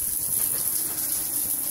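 Water runs steadily from an improvised hot water heater, a continuous hissing rush at even, moderate loudness with no talk.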